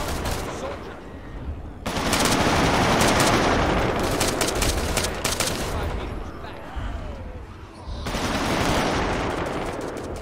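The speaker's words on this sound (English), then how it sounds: "Did you hear that fucking gun?" Sustained machine gun fire in the military shooter ArmA III, dense rapid bursts nearly continuous and loud, pausing briefly before another long volley, with players talking over the shooting.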